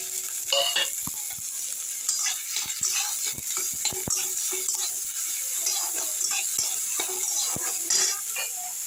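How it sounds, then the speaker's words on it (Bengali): Chopped onion, garlic paste and green chillies fry in a little oil in a kadai, with a steady close sizzle broken by frequent scraping and clinking stirs of a spatula. "অল্প একটু তেল দেবো কড়াতে, দিয়ে আমি পেঁয়াজ কুচি, রসুনের পেস্ট আর কাঁচা লঙ্কা ভেজে নেব।"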